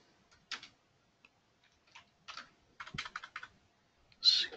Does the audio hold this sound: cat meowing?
no